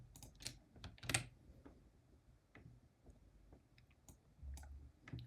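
A computer keyboard clatters as code is typed, with quiet, irregular bursts of key clicks and a few louder taps spread across the stretch, close by and with no voice.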